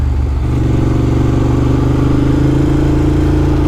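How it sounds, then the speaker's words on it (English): A big Ducati V-twin motorcycle engine growls loud and close, a deep, lumpy, pulsing rumble that holds steady and swells slightly as the revs climb. "The way they make that big V-twin just growl like that"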